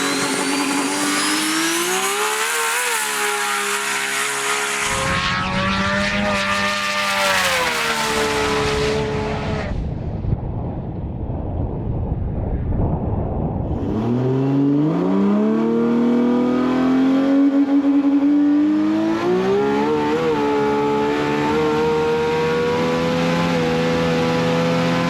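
A 2000hp Nissan GT-R makes a full pass down a runway, its engine roaring loud and close as it revs through rising gear shifts, with a drop-off and a fresh climb partway, with tire noise mixed in.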